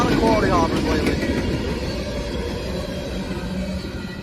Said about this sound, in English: this coal train